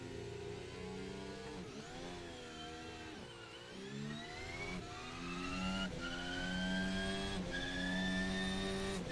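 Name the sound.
Formula 1 car standing start in Assetto Corsa video game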